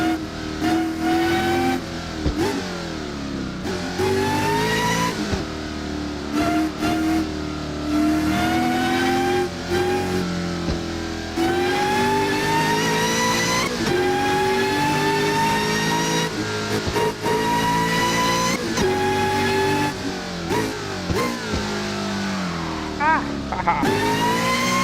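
A car engine revs hard and accelerates repeatedly in traffic, its pitch climbing and dropping through several gear-like sweeps, loud and close, with a brief tire squeal near the end and someone talking over it.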